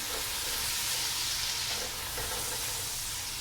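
Finely chopped tomatoes fry with browned onions in a pan for aloo gobhi, giving a steady, close, even sizzle and hiss with no talking.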